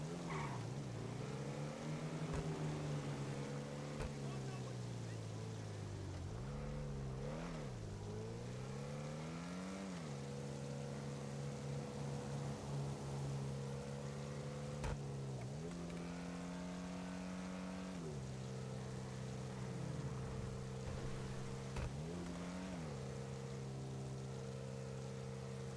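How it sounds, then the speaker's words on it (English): Car engine in GTA V Online on PS5, revving hard through repeated rising and falling gear sweeps for about half a minute, a strained buzzy whine that stays steady and fairly loud. "this jugular motor sounds like it's gonna break. You know, when I wind it up, listen to it"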